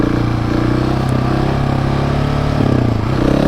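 A Husqvarna 701 supermoto motorcycle engine runs steadily and loudly during wheelie riding, with a continuous rough, pulsing single-cylinder drone and only slight rises in pitch.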